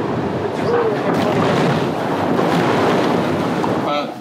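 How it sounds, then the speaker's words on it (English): Rolling ocean waves in the far south seas around a racing sailboat, a steady roaring wash of water and wind buffeting the microphone, loud and continuous throughout with a voice briefly under the noise. "Proper ocean waves, I think you call these."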